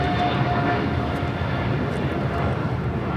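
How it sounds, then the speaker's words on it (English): An EVA Air Boeing 777-300ER, Flight 5 bound for Taipei, takes off from LAX with a steady, broad engine roar that holds at an even level throughout, likely heard from a distance. "This is EVA Air Flight 5 taking off to Taipei on a 777-300ER."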